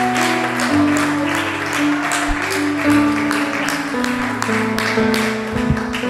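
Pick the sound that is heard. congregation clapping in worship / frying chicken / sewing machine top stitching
congregation clapping in worship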